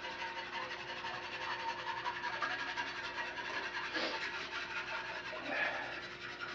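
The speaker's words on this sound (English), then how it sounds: "Now you take the whisk and have some fun." A whisk scrapes steadily in a pot of sauce on the stove, a quick rhythmic scratching and rubbing at close range that keeps on with no pause.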